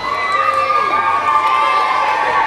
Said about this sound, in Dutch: Geef ze even allemaal een applaus, de finalisten van de Jump Request.